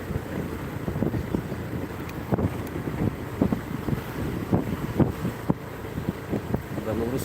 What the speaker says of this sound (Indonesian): anginnya kencang loh